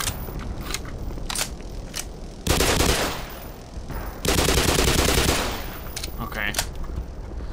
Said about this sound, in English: I think that's an armored gun.